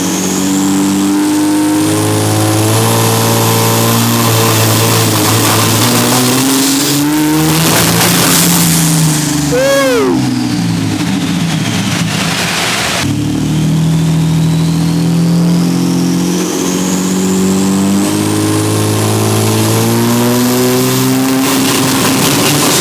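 Turbocharged Ford BA Falcon engine revving hard on a dyno, loud and continuous, with rising and falling pitch sweeps as it climbs through the revs and a high turbo whine above the roar.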